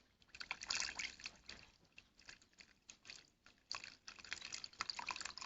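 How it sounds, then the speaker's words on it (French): Water trickles and splashes faintly into a pot of sausages being set up for boiling, a close, quiet, uneven stream of small liquid splashes and drips. "Voilà, faut bien mettre de l'eau."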